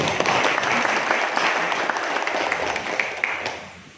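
An audience bursts into applause at a village youth gathering, a dense wash of clapping from many hands that holds steady, then gradually thins and fades toward the end.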